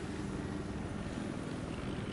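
A helicopter flies in the shooter Battlefield 4, its rotor making a steady low drone that holds throughout without breaks.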